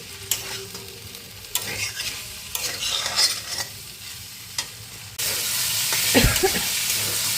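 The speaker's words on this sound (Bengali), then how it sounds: "দেখো আমি কিন্তু সমানে নাড়ছি মেরে ভাজছি গ্যাসটা যেহেতু মিডিয়াম টু হাইতে রেখেছি" Sliced okra frying over medium-high heat in a pan, stirred constantly: steady sizzle under repeated scraping strokes, growing to a louder, hissing fry partway through.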